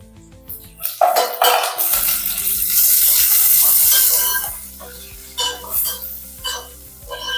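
Green chillies and onions frying in a pan for mushroom biryani, with a clatter of utensils, then a loud, broad sizzle that swells and holds for a few seconds before easing into quieter stirring clinks.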